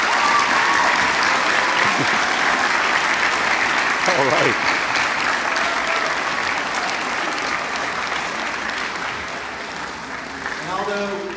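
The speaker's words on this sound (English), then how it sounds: "So let's give him a round of applause." A school audience at a safe-school award ceremony bursts into sustained applause, dense clapping filling the room for several seconds while someone speaks briefly over it.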